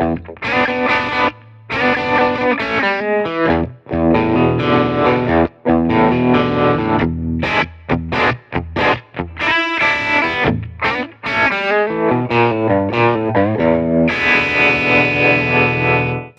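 An electric guitar rings through an AX8 amp preset, strummed chords and single notes pulsing with a wavering tremolo effect, loud and up close with no talking.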